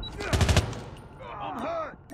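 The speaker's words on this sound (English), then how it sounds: "I got shot!" Call of Duty gunfire: a rapid burst of several loud, close shots in quick succession, followed by a lull with a voice speaking.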